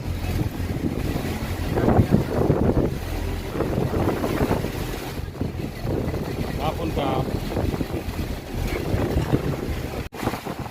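Boat cruising on the Chao Phraya river in Bangkok, a dense rumbling engine and water wash with heavy wind buffeting, loud and continuous, with faint voices mixed in.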